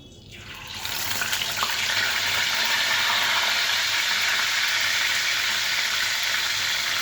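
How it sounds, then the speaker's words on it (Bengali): Fish dropped into hot oil in a pan, bursting into a loud, steady, broadband frying hiss that swells within the first second and holds close and constant, with no talking. "আমি মাছটা এবার ভেজে নেব"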